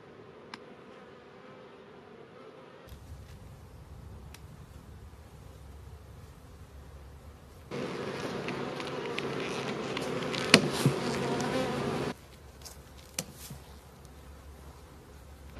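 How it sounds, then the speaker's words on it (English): A honey bee swarm hangs on a branch and hums as a low, steady buzz. It rises to a denser, louder drone for a few seconds midway, with scattered faint ticks and no talking. "Quickly I noticed that the swarm was very quiet, meaning that the queen was definitely inside."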